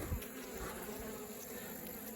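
Honey bees swarm over a hive frame during an apiary inspection, a steady close buzz with a constant drone and occasional louder passes near the microphone, no voices.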